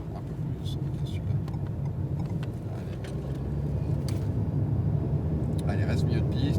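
An Alpine A110R accelerates around a track, its engine a low continuous drone that swells toward the end, with a voice faintly present beneath.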